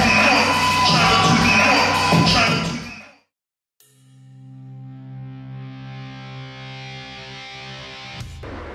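Crowd cheering and shouting at a live Mario Kart World esports event, a loud roaring burst that cuts off abruptly, followed by a quieter sustained musical tone.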